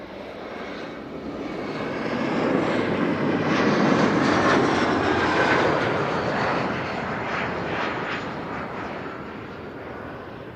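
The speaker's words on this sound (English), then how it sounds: "KLM flight 1294 is arriving from Billund on final to 36 right" A KLM airliner, arriving from Billund, approaches on final to runway 36 right at Amsterdam Schiphol, its engine roar rising to a loud broad rumble midway and then slowly fading, heard alone without voices.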